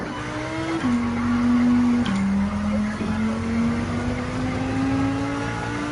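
A race car engine in Gran Turismo 7 holds a steady, droning whine that dips on a gear change and then slowly climbs as the car accelerates, close and continuous.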